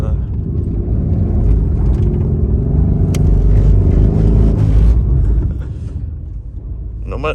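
Mercedes-AMG GT R doing donuts, a loud rumbling engine held at high revs with swelling throttle, then easing off toward the end; voices speak briefly over it.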